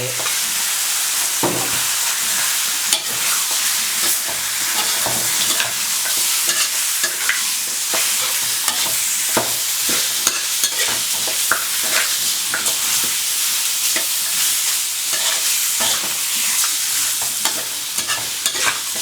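Steady loud sizzling and crackling of chopped pork rib cartilage stir-frying in a hot pan, with scraping and tossing sounds throughout.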